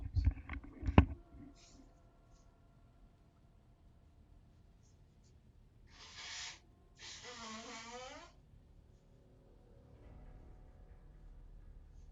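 Two short nose blows close by, a brief puff then a longer wet honk, after some faint rustling and handling noises.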